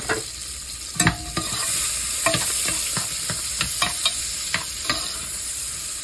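Chopped onion sizzles steadily in a pot with browned bacon while a spoon stirs and scrapes against the pot in repeated sharp knocks over the constant frying hiss.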